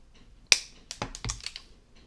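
Wire cutters snipping off excess beading wire while making a necklace: one sharp, close click followed by a few softer clicks and taps from handling the tool and wire, in a quiet room.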